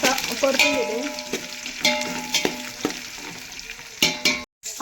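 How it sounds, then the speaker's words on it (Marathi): Onion and bay leaf frying in a pan on a gas stove for biryani, a steady close sizzle with stirring scrapes and clatter throughout, no talk. "तर आता मी कांदा टाकून देते. इथं कांदा टाकून दिले नंतर छान असा परतून घेते."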